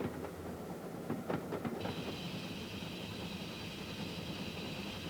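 A steam locomotive runs along the rails with a continuous rolling rumble and metallic clatter. Partway through, a sustained high, steady tone joins and holds to the end.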